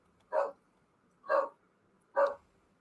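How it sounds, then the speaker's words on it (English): A dog barks three times at even intervals, each bark short and moderately loud against a quiet indoor background. "And there's my dog."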